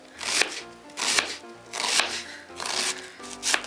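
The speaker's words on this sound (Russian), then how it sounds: "Теперь я режу лук." A knife chops an onion on a cutting board, halved and cut into pieces, in a steady run of five or six sharp, close blows with short pauses between them and no talk.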